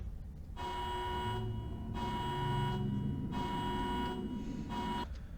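A spaceship alarm in a video game sounds in long, evenly spaced electronic tones, four sustained buzzing beeps with brief gaps between them, steady and moderately loud over a low hum.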